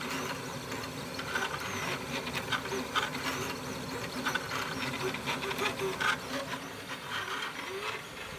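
A noisy 3D printer running at close range, giving off a continuous mechanical whir with buzzing, chattering motor steps and small rhythmic pulses that swell and ease over a steady hiss.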